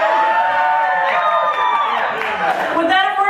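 A comedy club audience at Black Butte in Weed cheers and whoops loudly, a dense swell of voices that holds steady throughout.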